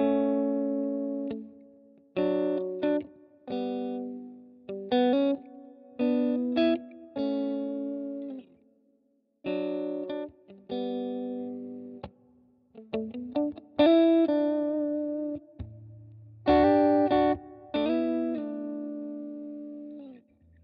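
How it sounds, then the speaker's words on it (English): Electric guitar played through a Bias FX 2 amp and cabinet with a touch of reverb: clean-to-driven chords and single notes in short phrases separated by pauses, ringing with harmonics, alone and close. "So that's how this cab sounds with the setup, which is a little bit of reverb."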